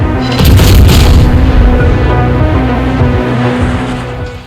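Heavy booming cannon salvos from the Königsberg, a Tier 5 German tech-tree cruiser in World of Warships, fire in a loud rolling burst with lingering low rumble, no voices present.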